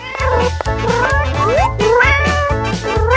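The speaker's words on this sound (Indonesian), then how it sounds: "Aja lali karo kucing iki." Cat meowing repeatedly in a toy-like setting while a dollhouse is furnished, several loud drawn-out meows over a steady rhythmic music bed.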